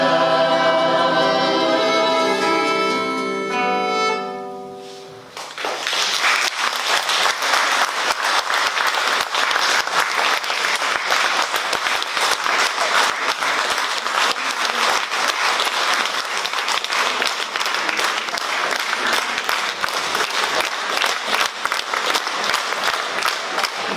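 Music stops and an audience at a live cultural-centre concert breaks into loud, sustained applause that fills the hall steadily to the end.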